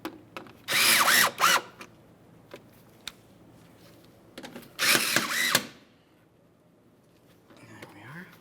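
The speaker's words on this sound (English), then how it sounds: "they're both started in. Let's snug them up." A power tool snugs up mounting bolts on a mud flap of a 2015-2020 Ford F-150, two short loud whirring bursts separated by quiet clicks and handling noises, close up, with a voice briefly heard.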